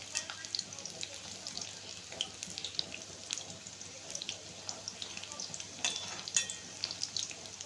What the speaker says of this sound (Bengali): পকোড়াগুলো এরকম লাল লাল করে ভেজে নিতে হবে